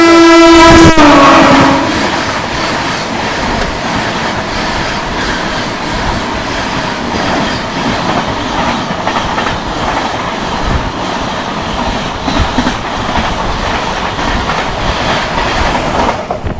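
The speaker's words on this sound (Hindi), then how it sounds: "सामने से दोस्तों आ रही है दरभंगा मदार अमृत भारत एक्सप्रेस" Darbhanga–Madar Amrit Bharat Express rushing past at speed, opening with a loud horn blast followed by a sustained roar of wheels and clattering carriages that stays close and steady throughout.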